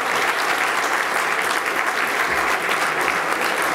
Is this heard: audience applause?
yes